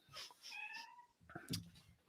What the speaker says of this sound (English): Was that a cat I just heard?